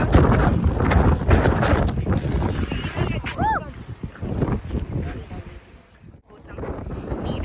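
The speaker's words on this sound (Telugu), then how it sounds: "గాలి వస్తుంది, చాలా జుట్టు ఎగిరిపోతుంది" Wind blows hard across Dindi Dam, buffeting the microphone with loud, rumbling gusts that rise and fall while people talk nearby.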